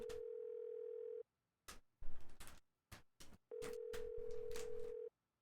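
Telephone call in a Nancy Drew game: a steady dial tone hums, breaks for a few sharp clicks and tones of dialing, then the continuous tone returns before cutting off.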